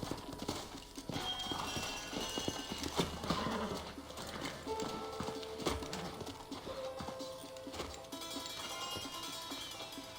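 Horse hooves clip-clop busily with an occasional whinny, layered over music and ambient effects in the video game Red Dead Redemption.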